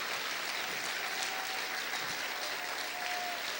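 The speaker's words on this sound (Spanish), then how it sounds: "aplaude fuerte al Señor" A church congregation claps loudly and steadily during a Spanish-language sermon, a dense, continuous wash of hands filling the room with no break.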